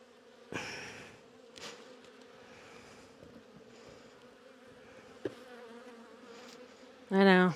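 Honey bees buzzing during a hive install, a faint steady drone near and around, with a few brief thumps and a louder sharp sound at the very end.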